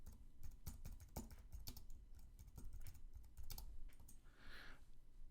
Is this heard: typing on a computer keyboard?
yes